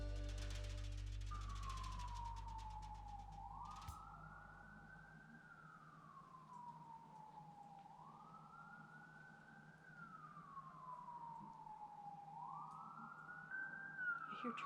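Police car siren wailing in a slow rising and falling cycle, repeating about three times, distant and moderately faint outdoors with no one talking over it.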